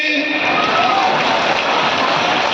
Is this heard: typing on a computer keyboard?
no